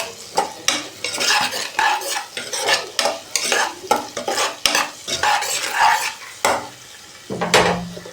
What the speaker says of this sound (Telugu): ఉప్పు వేసి కలుపుకోవాలి